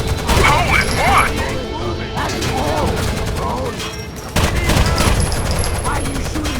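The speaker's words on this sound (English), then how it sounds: "Why are you shooting the wall" Rapid bursts of gunfire from the video game Rainbow Six Vegas at the Nevada dam, loud and sustained across the clip, with shouted voices mixed in over the shooting.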